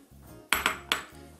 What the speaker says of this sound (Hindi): स्पैटुला की हेल्प से हम इसे मिक्स करेंगे.